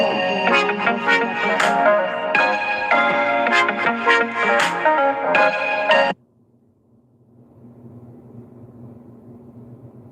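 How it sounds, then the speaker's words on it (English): A melodic phone ringtone plays loudly for about six seconds, then cuts off abruptly, leaving a quiet low hum. "I'm sorry, my phone was ringing."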